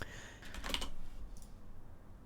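Keys clatter faintly on a computer keyboard as C++ code is typed, a short quick cluster of clicks followed by a couple of lighter taps in a quiet room.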